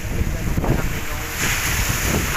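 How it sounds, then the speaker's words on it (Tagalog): Waves surge at high tide on White Rock Beach, a steady broadband wash of surf mixed with gusting wind buffeting the microphone, loud and continuous with no voices. "Ngayon, napaka taas ng alon"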